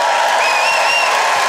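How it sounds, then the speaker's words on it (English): Brief burst of audience applause at a stand-up comedy show, a dense wash of clapping from a large crowd with a few whoops over it. "Applaud if you're a Londoner."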